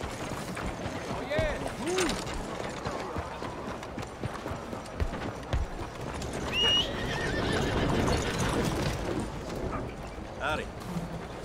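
A horse in Red Dead Redemption 2 whinnies over steady clip-clopping hooves, with game sound effects and occasional talk mixed in.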